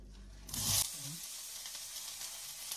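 Onion hitting hot oil in a pan for tacos, a brief loud burst of sizzling that settles into a steady, softer frying hiss close by.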